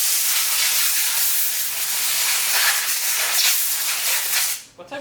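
Compressed air blasts steadily while blowing out car clutch parts during a Dodge Colt 4G63T engine swap, a loud continuous hiss that cuts off abruptly near the end.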